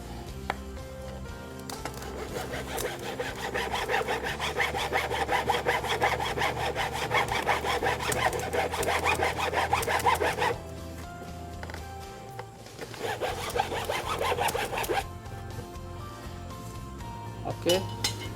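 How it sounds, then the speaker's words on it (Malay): Rhythmic back-and-forth hand sawing through plastic pipe, close and loud, with brief pauses and a lighter clink near the end. "Gergaji dia mengikut besar size pot yang kita mau pakai."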